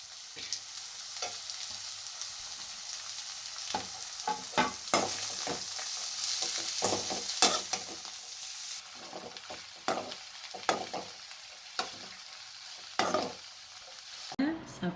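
Beans, chopped cabbage and meat are stirred and sautéed in a pan, giving a steady sizzle broken by repeated scraping strokes of a spoon, close and continuous with no voices.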